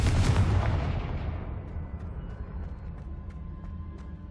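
A fiery Confringo spell from Hogwarts Legacy bursts as a loud booming explosion at once, then rumbles and crackles away over a few seconds, with faint clicks in the fading tail.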